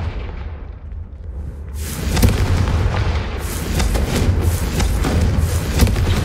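Confringo fire spells from Hogwarts Legacy blasting candelabras, heard as a run of loud booming thuds and crackling impacts over a steady rumbling bed, several hits landing close together.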